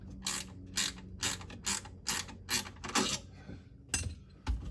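A ratchet loosens a UTV mirror bracket on a Honda Pioneer 1000 in a rhythmic series of close, crisp clicking bursts, about ten strokes with short pauses between them.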